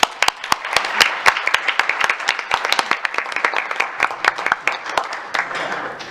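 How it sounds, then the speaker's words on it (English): An audience at a school board meeting claps steadily for a group of student musicians, many sharp overlapping claps forming a lively round of applause that holds for several seconds before thinning slightly. "please let's give them another round of applause"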